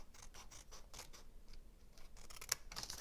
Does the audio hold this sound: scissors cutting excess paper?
yes